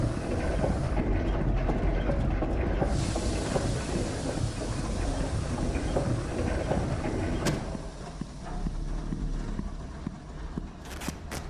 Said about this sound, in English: some kind of steam engine